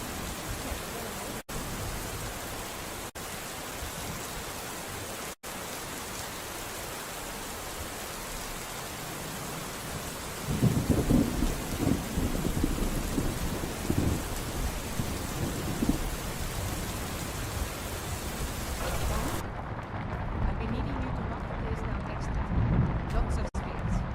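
Thunderstorm with steady rain in the modded Skyrim video game: a continuous wash of rainfall with rumbling thunder swelling about halfway through and lingering, the storm loud and enveloping throughout.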